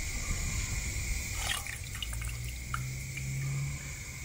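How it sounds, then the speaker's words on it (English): Dye poured into water for dyeing an HP Multi Jet Fusion 3D printed part: a steady liquid trickle and splash with scattered drips, close and moderately loud, heard alone without talk. "It's literally just like pouring dye into water."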